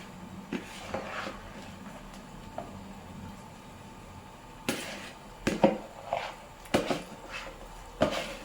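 Rice tipped into a kadhai of boiling gravy while making chicken biryani, heard as a few sharp scraping and clattering knocks near the end over a low simmering background.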